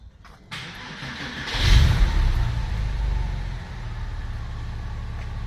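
A Porsche 996 sports car starts up after a brief click and crank, catching with a loud burst of revs before settling into a steady, close-up idle.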